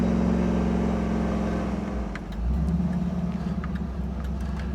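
A 1986 Jeep CJ7 with a 6.0 LS V8 on 37-inch tires rolls to a stop, its engine a steady low rumble that dips briefly as it slows, then settles into a close idle with faint clicks.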